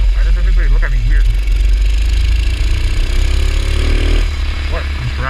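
A small dirt bike from Amazon being ridden outdoors, its engine droning loud and steady the whole time with low rumble, while a rider's voice talks over it.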